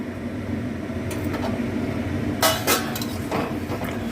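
A lid lifted off a cooking pot, two bright metallic clinks close together against a low steady kitchen background, near and fairly loud.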